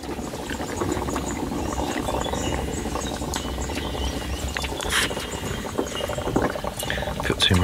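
Water boiling for coffee on a small boat in the early morning: a continuous bubbling, rattling roil with liquid sloshing, while people talk over it.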